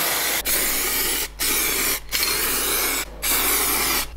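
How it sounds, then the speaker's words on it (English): Aerosol spray can of gloss black paint sprayed onto an Escort Cosworth car body, loud steady hissing bursts in four long passes separated by brief pauses, close and alone. "I gave the car a light dusting with some gloss black paint"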